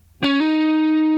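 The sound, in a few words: single guitar string strummed with hammer-on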